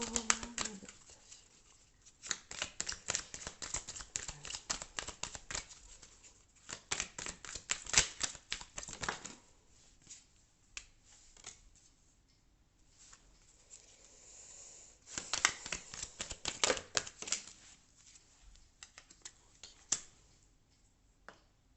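Tarot cards are drawn and laid out for a reading, giving bursts of crisp shuffling, flicking and tapping clicks in dense clusters separated by quieter pauses, close and fairly faint.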